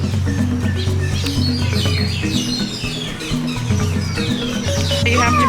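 Many birds chirp and tweet close by along the Maharajah Jungle Trek aviary path at Animal Kingdom, with busy overlapping calls over a steady low hum and murmur of background voices.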